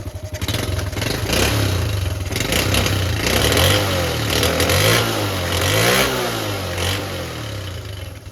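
A classic Honda Cub C70 motorcycle's small engine catches and runs steadily, revving up and down in repeated swells close by, with mechanical clatter throughout.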